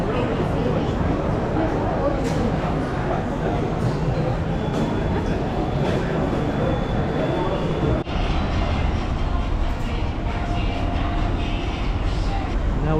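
Busy ambience inside Butterworth train station in Malaysia: a dense, continuous wash of crowd chatter and hall rumble at steady loudness, with a brief thud near the middle and people talking throughout.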